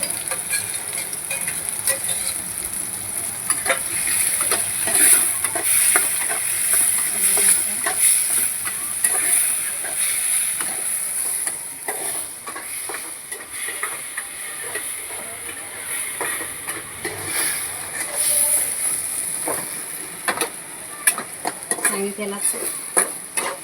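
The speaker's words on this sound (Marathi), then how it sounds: "कांदा चांगला परतून घ्यायचा आहे" Finely chopped onion sautéing and being stirred in a pan, a steady soft sizzle with frequent scraping clicks of the spoon throughout, fairly close and without talk.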